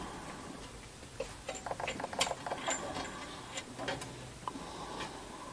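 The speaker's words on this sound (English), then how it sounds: "When plugging in your antenna cable, first plug it into the socket, and then screw it down." A radio's antenna cable connector is screwed onto its socket, giving small scattered metallic clicks and ticks, faint and close against a quiet background.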